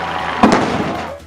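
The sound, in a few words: Ironman race start cannon firing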